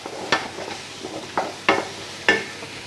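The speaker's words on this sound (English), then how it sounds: "keep stirring" Spiced beef stew stirred in a pot, a spoon scraping and knocking in four or five separate strokes over a low sizzle, close and fairly clear with no talking.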